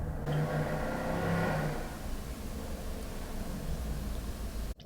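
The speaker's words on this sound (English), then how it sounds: "I think that was a motorcycle." A motorcycle passing by outside, heard indoors as a muffled, distant engine rumble that swells over the first two seconds and then fades into a low steady background.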